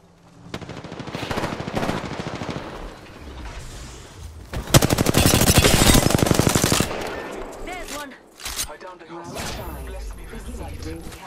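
Bursts of rapid automatic gunfire in a video game, loud and near, with a long sustained volley in the middle and shorter shots around it, while voices talk over the shooting.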